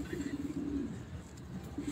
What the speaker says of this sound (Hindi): बहुत शानदार कबूतर माशाल्लाह जी